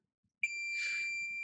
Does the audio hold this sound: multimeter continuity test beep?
yes